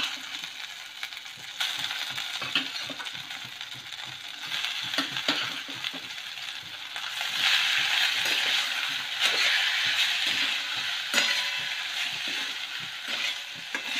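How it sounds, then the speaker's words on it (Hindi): Rice for a raw mango rice dish goes into a pan and is stirred, with a soft sizzle, grainy scraping and intermittent clinks and taps of a spoon against the pan, growing busier partway through. "अब इसमें चावल डाल रहे हैं"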